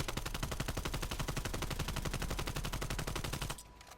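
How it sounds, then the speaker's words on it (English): Rapid automatic gunfire in Call of Duty: Black Ops Cold War, a tight, evenly spaced burst of loud shots lasting a few seconds before stopping abruptly, with no voices. "when you're shooting, it'll look like this."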